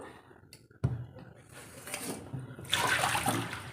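Raw mangoes being washed in water for a mango thokku pickle, with splashing and running water that grows louder toward the end, close by, and a voice talking over it.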